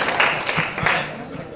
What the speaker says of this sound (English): All right, how about an applause?